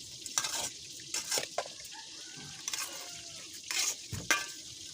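Ingredients with garlic and onion are stirred in a sizzling pan, a soft frying hiss broken by repeated close scraping strokes of the spatula against the metal.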